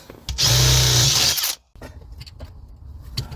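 A power tool drills hard and loud for about a second while bolting down a hydraulic handbrake on an E36 drift car, then stops abruptly, followed by softer workshop clatter.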